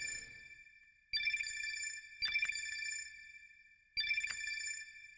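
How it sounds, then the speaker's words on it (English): A video game phone rings in repeated electronic bursts, fairly loud and close. Three ring sequences come with short gaps between them, each carrying a sharp chime-like accent, and no voices are heard. "The increasingly insistent ringing pierced my ears"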